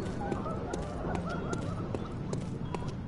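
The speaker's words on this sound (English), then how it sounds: "they are the most disturbing crows I've ever seen." Crows in the Bloodborne video game make repeated harsh, honking caws. The calls come in steady irregular bursts over a dense background of game noise.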